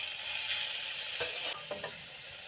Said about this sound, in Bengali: আলুগুলো ভাজা লাল লাল হয়ে গেছে,